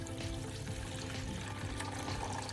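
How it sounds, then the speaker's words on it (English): Baking soda solution drains out of a car battery into a container as a steady, close pour of liquid, an even rushing trickle that holds without a break. "Once again, I'm draining the liquid into the container."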